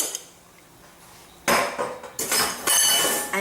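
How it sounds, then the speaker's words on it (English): Whisking egg into milk and butter in a bowl, bursts of quick metallic clinking and scraping against the sides, close and loud, starting after a quiet moment. "Just whisk for a couple of minutes."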